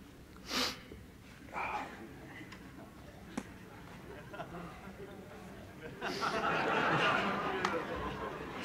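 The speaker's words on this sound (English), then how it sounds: "I've got to blow my nose." A man blows his nose several times, with close, breathy honking bursts separated by pauses and a longer, noisier blow near the end, over quiet background sound.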